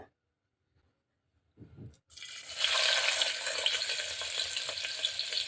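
Mutton sukka ingredients sautéed in groundnut oil in a pan: after a near-silent start and a short clunk, a loud, steady, close sizzle sets in and keeps crackling without pause.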